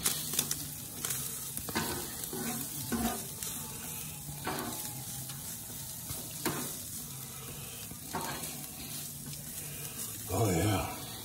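Asada meat with taco seasoning sizzles in a hot pan, a steady frying hiss broken by repeated stirring scrapes and clatters, close and moderately quiet.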